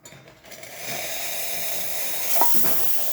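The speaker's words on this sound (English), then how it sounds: "Nice strong steam. It's holding its pressure." A La Pavoni Professional lever espresso machine, freshly serviced, runs its steam wand in a strong, steady hiss that builds after a short start and holds at an even level, with a brief clink midway and no talking.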